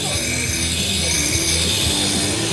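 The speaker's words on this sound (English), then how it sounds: "Vacuum's on." A dust extraction vacuum from a new concrete tool shown at World of Concrete 2024 runs with a steady, loud, even motor whine and airy rush, close and unbroken throughout.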